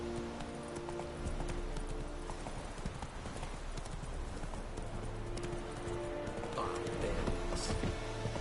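Hooves pound rhythmically as the horse Roach runs in The Witcher 3, a continuous near clip-clop layered over droning game music and background ambience.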